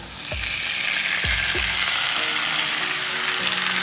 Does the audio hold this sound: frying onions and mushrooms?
yes